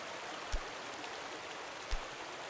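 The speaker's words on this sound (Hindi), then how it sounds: "कुछ तो पानी की आवाज" A flowing stream in A Difficult Game About Climbing gives a steady, soft broadband wash of water, with two brief low thumps breaking through.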